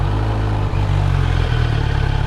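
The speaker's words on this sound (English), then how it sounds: "when it's in the idle, what happens is it gives a lot of clattering sound, like tuck tuck tuck tuck tuck" A Kawasaki Z900 motorcycle engine idles with a clattering knock, a loud, close, steady low rumble with fast repetitive ticking throughout.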